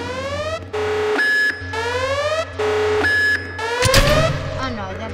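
A reactor alarm in a Roblox video game blares loudly in repeated rising electronic sweeps with steady tones between them, followed by a sharp crashing burst.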